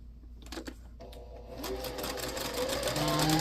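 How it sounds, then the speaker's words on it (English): A sewing machine stitches a foundation paper pieced star quilt block, a few quiet handling clicks first, then a rapid whirring run that builds steadily louder, close up with no talk. "Now we're going to sew on piece 3, and again, just stitch right on that line"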